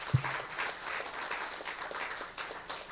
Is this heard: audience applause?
yes